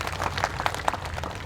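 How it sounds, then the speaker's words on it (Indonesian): An audience at the Subang Fest cultural festival applauding, a dense, steady wash of many hands clapping together at moderate loudness for a brief stretch. "Boleh tepuk tangan untuk Pak Rey"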